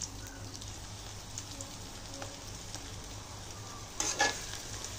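Garlic paste fries in mustard oil in a kadai and is stirred, giving a faint steady sizzle with a few scraping strokes and a louder stir near the end, with no speech.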